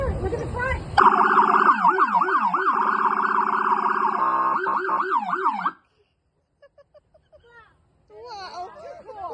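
A loud, close police car siren wails in rising and falling sweeps for several seconds, then cuts off, followed by a few faint knocks and a brief return of a softer wavering siren tone.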